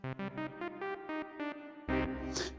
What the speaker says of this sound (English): Bring it up, we get reverb.